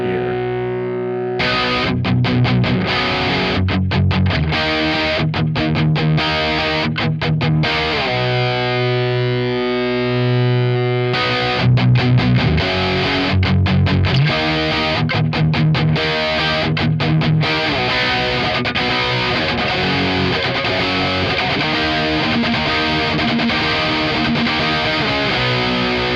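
Electric guitar through a Marshall DSL20HR amp with gain up, breaking up into heavy distortion, loud chopped chords and riffs with sustained notes between bursts, no voices.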